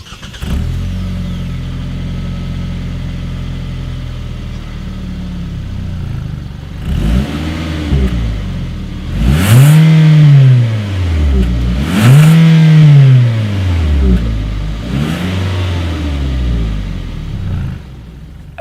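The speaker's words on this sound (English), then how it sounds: "As always, here is that exhaust clip." 2019 Hyundai Tucson idling through its single chrome-tipped exhaust, then revved in three or four rising and falling bursts, close and loud, with no talking.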